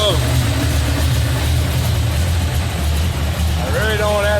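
A V8 engine fitted with an AVS2 carburetor whose throttle blades have holes drilled in them idles low with a steady, deep rumble, close and loud, while someone talks over it.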